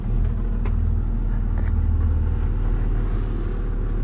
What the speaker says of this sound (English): Right now I'm going to hop in the truck and take it for a quick drive.